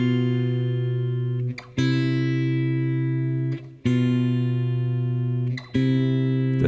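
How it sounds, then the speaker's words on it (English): An electric guitar sustains two-note dyads that shift and resolve, each held for about two seconds with soft pick attacks between changes. The tone is clean and close, with no talking. "If I play only them 2 guiding notes and resolve them, you still hear the chord progression."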